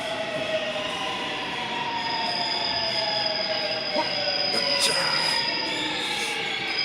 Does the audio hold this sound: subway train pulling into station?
yes